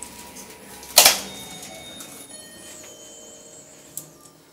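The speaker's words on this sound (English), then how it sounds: "So let's now demonstrate free falling a lift." Releasing the brake on a Schindler Smart lift gives one sharp, loud mechanical clack, then a faint whir and a small tick near the end, with no talking.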